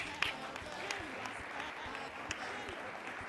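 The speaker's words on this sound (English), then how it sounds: "I think you deserve some round of applause." Audience applause at a Delta State government event held with the NDLEA, a steady wash of clapping throughout with a few sharper claps standing out and faint voices mixed underneath.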